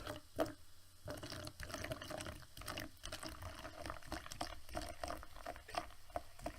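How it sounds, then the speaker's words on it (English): Mountain Dew poured into a glass: a soft liquid patter and trickle in irregular bursts, close and quiet, with fizzy crackle between pours and no voices. "I'm gonna pour myself more Mountain Dew."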